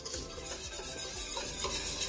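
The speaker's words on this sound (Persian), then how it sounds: "دو قاشق غذاخوری آرد ذرت ریختم، اضافه کردم به این کرم و یک سره همش میزنم" A spoon stirs cream custard thickened with two tablespoons of cornstarch in a pot on the stove, a soft continuous scraping and bubbling close up, steady with no voices.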